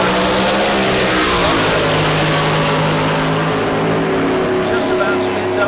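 A drag race car at a Street Car Super Nationals event launches off the starting line with a loud, sustained engine roar that rises in pitch and then fades. An announcer talks over it.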